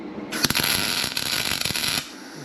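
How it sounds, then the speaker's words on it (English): A welding torch crackles and sputters in a dense, loud burst of sizzling pops that starts suddenly, runs for under two seconds, then cuts off, with no speech over it. "Did you have fun welding?"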